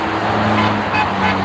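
Dense road traffic on a bridge, with cars passing and horns blending into a steady engine and tyre roar. The noise is loud and continuous, and no distinct honk pattern stands out.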